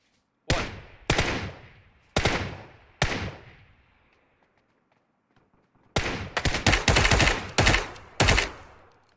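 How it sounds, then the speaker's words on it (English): Gunfire in the video game Ring of Elysium: four loud, separate shots spaced about a second apart, a pause, then a rapid volley of shots, with no talk over it. "I'm shooting at them."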